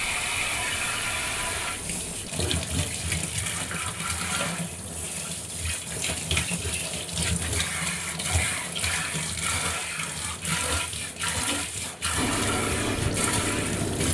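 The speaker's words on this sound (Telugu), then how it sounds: "మొత్తం వాటర్తో ఇలా కడిగేస్తున్నానండి" Running water rinsing a steel kitchen sink, a loud continuous gush with splashing and rattling as the stream hits the basin and drain, no talking.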